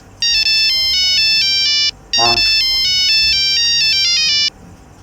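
A telephone ringtone plays a loud, bright electronic melody in two long repeating bursts separated by a short gap, close and clear, with a brief low thud between them.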